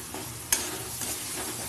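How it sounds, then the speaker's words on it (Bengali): Banana peel paste stirred and fried in a pan, a steady close sizzle with a sharp scrape or clink of the spoon early on and softer stirring strokes after. "ভালো করে আমি নেড়ে ছেড়ে ভাজা ভাজা করে নেব।"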